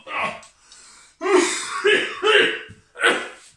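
A few sharp, breathy coughs in quick succession, close and fairly loud, with short pauses between bursts.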